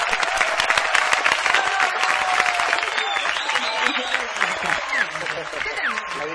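Clapping from people in a radio studio celebrating an award win, crisp uneven claps with excited voices talking over them.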